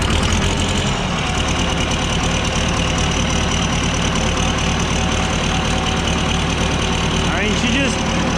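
A Ford 7600 tractor with a turbo idles nearby, a loud, constant diesel rumble with an even knocking beat that continues for the whole stretch and includes a faint whistling squeal near the end.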